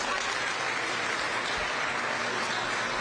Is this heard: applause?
yes